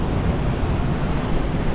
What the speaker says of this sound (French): pour l'instant j'ai un peu plus de 30 nœuds de vent